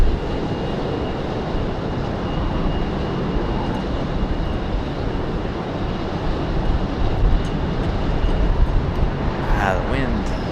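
A United Boeing 737 Max 9 jet departs from an airport runway as a loud, steady broadband engine roar that fills the whole clip and swells slightly toward the end.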